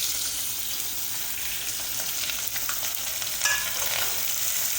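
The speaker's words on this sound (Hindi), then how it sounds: "अब हम इसमें ऐड कर रहे हैं अपनी प्याज जो हमने कट करके रखी थी।" Chopped onions frying in oil in a pan, a steady close sizzle with fine crackling and bubbling throughout, no talking.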